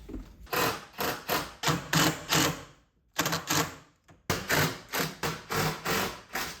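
A power driver screws an IKEA kitchen cabinet into place for a DIY island, producing rhythmic bursts of whirring and rattling roughly every half second, close and loud, with two short pauses.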